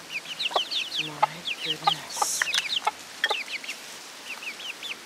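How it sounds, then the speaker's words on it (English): Chickens cluck and peep in a barn, a busy scatter of short calls close by, with a voice briefly speaking over them. "Look at the size of this chicken."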